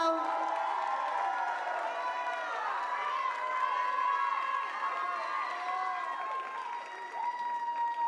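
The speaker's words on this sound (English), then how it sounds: "Let's give them a good hand clap." Clapping and cheering from a recital audience at a dance studio's recreational show, with children's shouts and whoops layered over steady, moderately distant applause.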